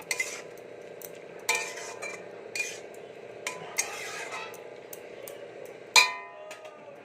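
A utensil stirs fish curry with potatoes and cumin powder in a pan, giving sporadic metallic clinks and scrapes against the pan every second or so over a quiet background.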